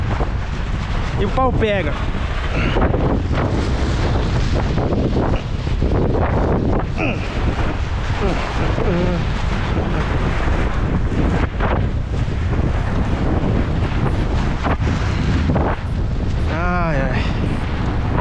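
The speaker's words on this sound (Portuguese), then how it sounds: "O vento não para." Strong wind roars steadily across an open field during soybean planting, buffeting the microphone throughout, with a few brief shouts and short speech over the constant gusting.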